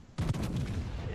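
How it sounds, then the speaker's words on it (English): A single sharp boom from a battleship's secondary guns in the naval game World of Warships, with a strong attack and a short rumbling tail that fills the brief moment. "My secondaries continue to fire on the York."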